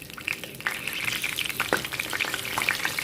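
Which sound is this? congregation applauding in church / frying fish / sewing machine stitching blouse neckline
frying fish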